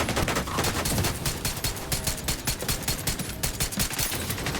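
Dense, continuous gunfire from The Division 2, with overlapping rapid bursts and automatic weapon fire in a loud, sustained barrage and no talk.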